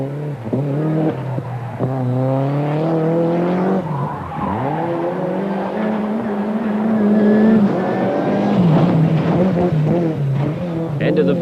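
A 1989 WRC rally car is driven hard around Silverstone's twisting layout, engine revs climbing and dropping with tyre squeal. A voice talks over the car throughout.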